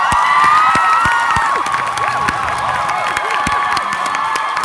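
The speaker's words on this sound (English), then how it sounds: "Please clap for him." An audience at the ICMA Poltava conference in 2015 applauds and cheers loudly and without a break, with whoops and shouts rising over dense clapping from a large crowd.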